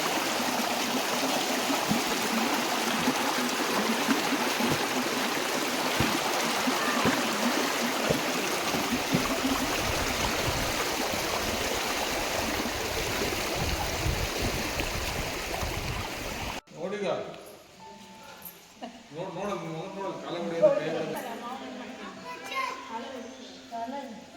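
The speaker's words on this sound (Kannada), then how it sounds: "ನೀರಿನ ಶಬ್ದ ಒಂಥರ ಮೆಡಿಟೇಷನ್ ಇದ್ದ ಹಾಗೆ." Steady rushing of a flowing stream fills most of the clip, close and constant, then people talk over quieter water near the end.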